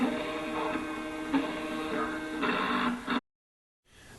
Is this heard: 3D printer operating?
yes